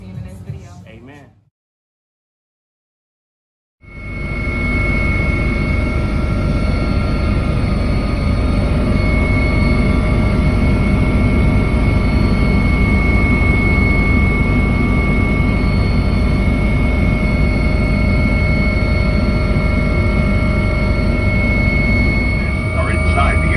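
An airplane cabin carries loud, steady engine drone with a constant whine. It starts abruptly after a brief silence and runs on unchanged for a long stretch.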